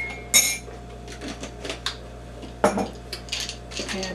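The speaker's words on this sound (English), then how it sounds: "I take for my coffee a level spoon." A metal spoon scoops coffee grounds into a reused container, with a few sharp clinks and soft scraping taps, close and quiet, and long still gaps between them.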